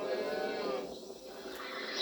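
Cattle being rounded up toward a slaughterhouse moo in a long, drawn-out low call that fills the moment, close and fairly loud with a steady crowd-like background and no speech.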